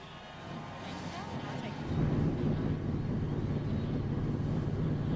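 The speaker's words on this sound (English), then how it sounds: "Drivers, start your engines." NASCAR Craftsman Truck Series engines fire up for the 2007 race start at Atlanta Motor Speedway, a low, broad rumble that swells sharply after a couple of seconds and then holds steady and loud.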